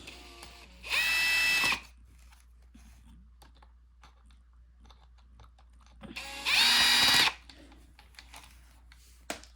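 A power tool drives and tightens screws on a Bissell CleanView vacuum during servicing, with two loud whirring bursts of about a second each separated by quiet handling clicks.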